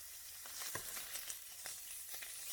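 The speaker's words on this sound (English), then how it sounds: "It only really needs some small amount of frying and grilling" Kobe beef from Tajima-strain Japanese Black cattle fries in a pan with a faint, steady sizzle and scattered small pops and crackles, with no voices.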